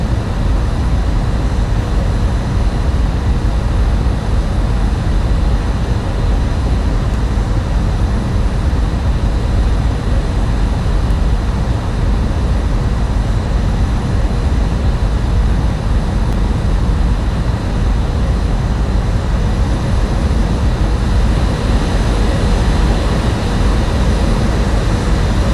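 Airbus A320 jet engines in the X-Plane 11 flight simulator producing a steady, loud, broadband roar of thrust that holds evenly throughout with no pauses or voices.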